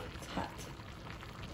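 Steady sizzling and bubbling of a Moroccan lamb tajine frying in a pot, a busy crackle filling the short moment, close and moderately loud.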